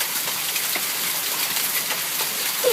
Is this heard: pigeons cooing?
no